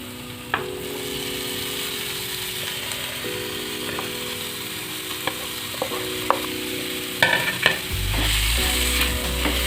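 Boiled fish being stirred into fried spices in a pan, a steady sizzle with repeated scraping strokes and clinks of the utensil, close by, with a low hum joining near the end.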